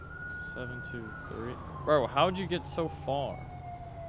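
A police siren in a roleplay video game wails steadily with a gliding tone in the background, while people talk over it.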